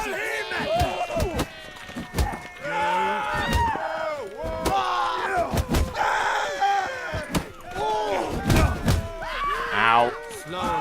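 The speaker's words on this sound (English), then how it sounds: "I fucking hate the punching." Fist-fight punches in The Witcher 3: Blood and Wine land as a rapid series of heavy, close thuds and smacks, mixed with grunts and groans, while a voice talks throughout.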